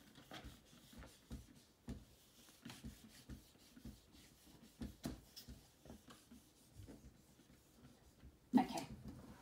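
Children rub their small boards clean in a year 1 classroom: a steady patter of soft scrubbing strokes, quiet and close, with a sharper knock near the end.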